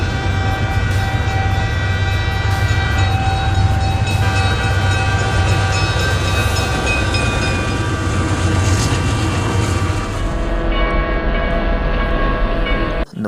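Trains pass close by on a railway track with a loud, continuous rumble of wheels and cars that holds throughout. A horn sounds with it, and the noise cuts off abruptly at the end.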